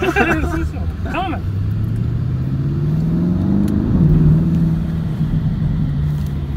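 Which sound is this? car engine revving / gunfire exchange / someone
car engine revving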